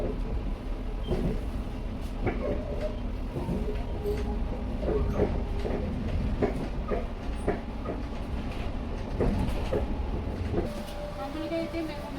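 A train standing at a railway station gives off a steady low rumble with scattered clanks and thuds, while voices murmur in the background throughout.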